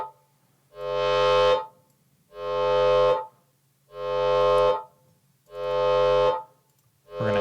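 A synthesized tone pushed through multiband processing with hard clipping on the high band, heard as four sustained harsh buzzy notes about a second long, evenly spaced with short gaps of silence.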